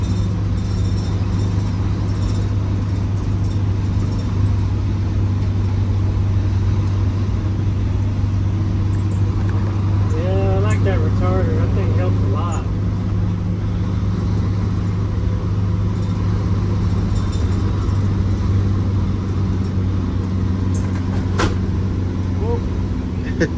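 A bus out on a test drive after turbo boost trouble, a constant low engine rumble and road drone from inside the cabin, steady throughout with some faint rattles and muffled sounds over it.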